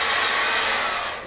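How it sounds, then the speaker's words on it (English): Hair dryer blowing steadily at close range to dry prints in a printmaking studio, a loud broadband airflow roar that holds level and tapers slightly at the end. "use the hairdryer"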